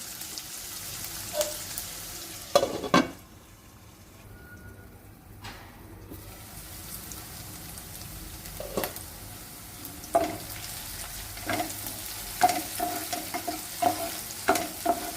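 Vegetables fry in a pan for restaurant-style hakka noodles, with a soft, steady sizzle under repeated scraping clinks of stirring, close by and with no talk.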